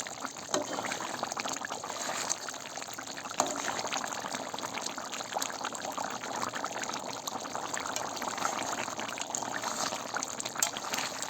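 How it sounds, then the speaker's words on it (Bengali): Curry with garam masala being stirred in a pan, a continuous bubbling, hissing simmer with occasional faint knocks of the spoon, steady and close. "তা আমি গরম মশলাটা দিয়ে একটু ঘুরে নাড়াচাড়া করে দিচ্ছি"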